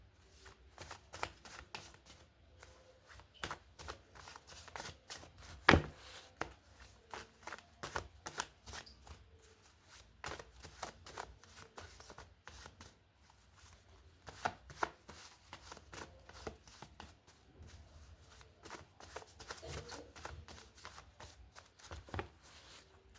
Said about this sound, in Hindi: आप शुरू के 10 सेकंड स्किप कर सकते हैं क्योंकि मैं शफल करने वाली हूँ।